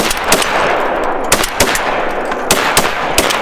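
Shotgun blasts fired at ducks during a public land duck hunt, about eight sharp, loud reports in an irregular volley, some in quick pairs, over a constant outdoor background with no talk.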